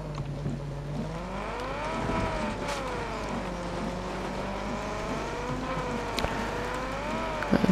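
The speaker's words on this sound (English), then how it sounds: "At least this vehicle's quite quick." A car engine in the video game Far Cry 6, driving quick and steady with a clear whining tone that rises and falls as it revs and shifts. Occasional faint knocks sound over the drive.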